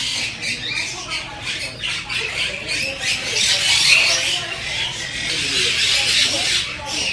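Dense chorus of squawking and chattering birds fills an aviary-style bird park, many shrill calls overlapping near and far, with a person talking over the din.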